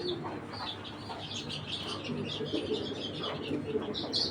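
Large racing pigeons coo softly and repeatedly close by, with faint chirps and flutters mixed into a busy, continuous background.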